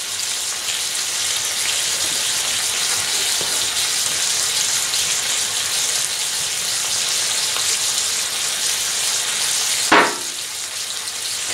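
Thick bacon fries in a pan outdoors, a steady crackling sizzle like light rain with one sharp clatter near the end, no talking.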